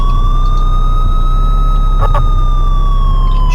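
Emergency vehicle siren from the driving game Sim Emergency Driver wails loudly and continuously in a slow rising and falling sweep, close up, with a brief burst of clicks partway through.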